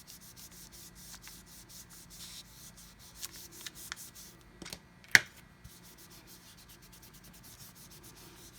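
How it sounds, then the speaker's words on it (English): A polymer clay flower cane is burnished by rubbing, a faint steady scratchy friction with a few soft knocks and one sharper tap midway, quiet and close. "so I'll burnish it a little bit more"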